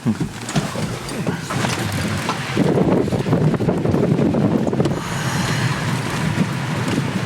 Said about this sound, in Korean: 지금까지 촬영한 것 중에 바람 제일 많이 불고